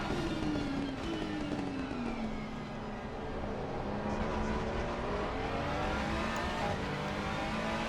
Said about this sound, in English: You just see the straight line speed, the acceleration of that Nissan GTR is quite something